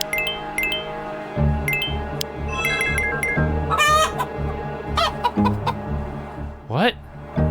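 Chickens clucking and a rooster crowing in the video game Evering, as a chicken eats grain; repeated clucks over a steady game music bed, with a loud squawk near the end.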